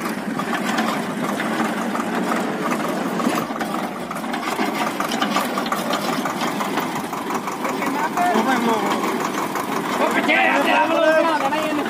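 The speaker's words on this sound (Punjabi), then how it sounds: "ਆਹ ਛੋਟਾ ਜਿਹਾ ਮਾੜਾ ਆਹ ਨਿੱਕਾ ਟਰੈਕਟਰ ਜੀ ਇੱਕ" A small tractor engine runs steadily at the Hola Mohalla gathering in Anandpur Sahib, giving a continuous rattling, pulsing drone with nearby people talking over it throughout.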